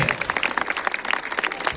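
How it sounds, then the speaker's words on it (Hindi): A school annual day audience claps for young prize winners, giving a steady burst of applause from a crowd throughout. "मैं चाहूंगा आप जोरदार तालियों से बच्चों का हौसला बढ़ाते रहे"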